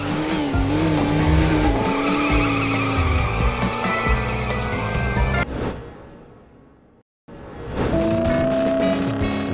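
Racing cars in the Wii video game MySims Racing roar loudly with engine drone and squealing, skidding tires. The sound drops briefly into near silence before the race noise resumes.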